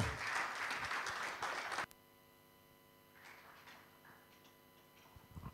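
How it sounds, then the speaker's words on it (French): Audience applause at the FIBA Afrobasket 2017 draw ceremony, a burst of clapping that stops abruptly, leaving a quiet room with a faint steady ticking and a few scattered sounds. "Can we give a big applause?"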